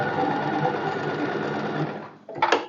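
A sewing machine stitches a boatneck dress side seam, a steady close whir for about two seconds that stops, followed by a brief handling clatter.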